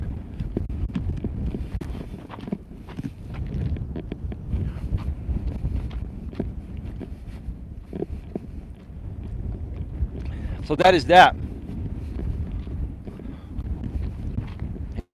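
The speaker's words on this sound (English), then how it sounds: "it's a little bit of a windy day here today" Wind buffets the microphone with a constant low rumble, while someone speaks briefly over it.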